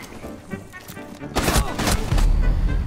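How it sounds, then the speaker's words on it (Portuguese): Rapid gunfire in a Rainbow Six match, a loud burst of repeated shots swelling midway and continuing to the end, with excited talk heard alongside. "Eu tô atirando o cara não morre"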